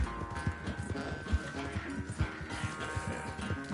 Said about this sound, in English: my horse is way slower than his.